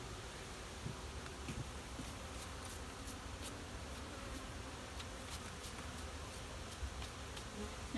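Honey bees hum and buzz around an open hive during honey harvest and winterizing, a continuous, fairly soft drone with occasional closer passes, and no talking.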